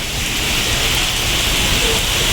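Heavy rain pours down in a dense, steady hiss in Singapore, loud and close, drumming on surfaces without pause.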